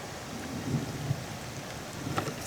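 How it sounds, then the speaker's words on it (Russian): An approaching storm near a riverside campsite, with low rumbling thunder and a steady wash of rain or hail under gusting wind, fairly loud with no talk. "А вот это вот идет град, наверное, Сереж, глянь."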